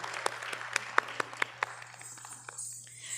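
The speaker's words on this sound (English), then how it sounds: "A big round of applause to Mahesh ji." Audience applause at a Bharatanatyam arangetram dance recital, a scattered round of clapping with distinct individual claps that thin out and fade toward the end, moderately distant with a low steady hum underneath.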